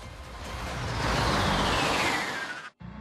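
A Citroen C4 Cactus test car with a 60 kW engine drives past close by, its broad road and engine rush swelling, then cutting off abruptly near the end.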